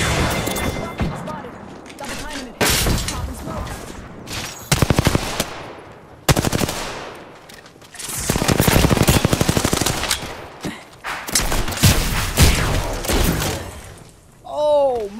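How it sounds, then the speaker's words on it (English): Gunfire in the video game Apex Legends: loud bursts of rapid automatic fire and single shots that come in waves with brief gaps, alongside an excited player's voice. "Listen up, I'm getting shot at."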